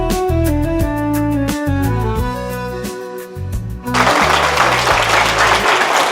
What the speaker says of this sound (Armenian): Շնորհակալ ենք ես գեղեցիկ ծափերի համար